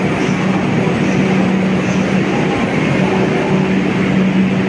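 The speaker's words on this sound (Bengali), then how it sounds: "পৌঁছে গেলাম দমদম মেট্রো স্টেশন।" A metro train at Dum Dum metro station in Kolkata gives a steady, loud rumble with a faint hum running through it. It holds evenly for the whole stretch, with no voices.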